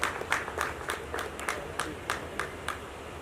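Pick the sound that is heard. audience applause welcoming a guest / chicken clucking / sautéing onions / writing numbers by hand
audience applause welcoming a guest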